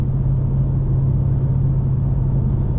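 A BMW M5 Competition on an early-morning drive: a steady, loud low rumble of engine and road noise from inside the cabin, unbroken and without voices.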